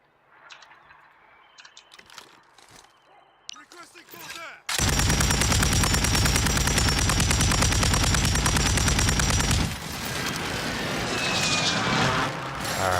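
Sustained rapid gunfire in a video game shootout against a rooftop sniper, a dense loud burst of shots that starts abruptly after quieter scattered sounds and continues for several seconds before easing slightly.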